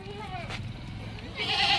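A goat bleating close by at a livestock sale in Chandwad, Nashik district, one short wavering bleat over a voice as he talks.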